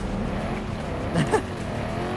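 A car in a video game drives along with a continuous engine drone and a brief rising burst near the middle. There is no speech.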